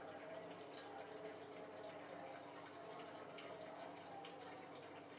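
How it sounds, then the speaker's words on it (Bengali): A kitchen tap runs in a steady, fairly loud stream while hands are rinsed after mixing fish with spices, a continuous wash of water with no break or talk. "হাত ধুয়ে সামান্য করে একটু জল দেব"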